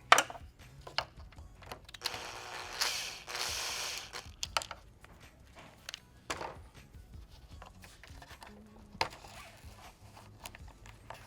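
A Phillips screwdriver backs out small screws from the grille of a 2011-2014 Ford F250/F350 pickup. Close, intermittent clicks and ratcheting scrapes come in short bursts with brief pauses between them, and nobody talks.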